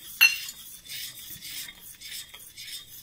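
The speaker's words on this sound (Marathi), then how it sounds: "टाकताना आपल्याला मिक्स करून टाकायचं आहे आणि आपल्याला हे कंटिन्यू हलवायचं आहे" A spoon or spatula stirs a homemade vanilla ice cream milk mixture in a pan, a sharp metallic scrape at the start, then soft continuous scraping and swirling, close and fairly quiet with no talking.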